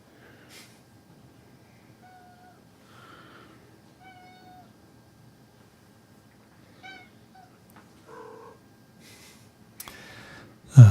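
A house cat meows several times in a quiet room, short separate calls spaced apart, close and moderately soft, followed by a brief clatter at the end.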